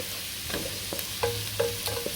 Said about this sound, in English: So I'm sauteing this onion.